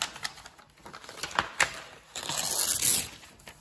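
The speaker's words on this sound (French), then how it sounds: "Alors là je vais le déchirer parce qu'ils sont un peu grands" Paper being torn in a few quick rips, close by, with a longer rough tearing stretch near the end; no voices.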